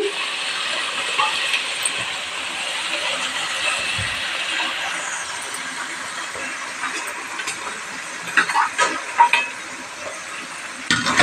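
Onion paste frying and being stirred in a pan for fish curry, a steady close sizzle with scraping stirring strokes growing sharper toward the end, without talk.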